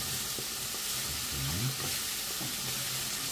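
An onion omelette fries crisp in a pan at breakfast, giving a steady close sizzle and crackle with a few soft scraping stirs and no talk.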